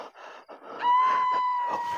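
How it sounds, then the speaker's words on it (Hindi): A high, sustained wailing scream at night in a graveyard, holding a steady pitch for over a second after some faint shuffling sounds, moderately loud and fairly close, with no talk over it. "ये किसकी चीख है?"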